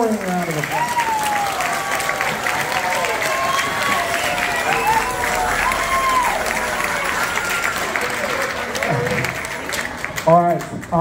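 Sustained applause with cheers and whistles from an audience honoring seventh grade performers at a middle school concert, a dense steady clapping wash lasting about ten seconds before fading.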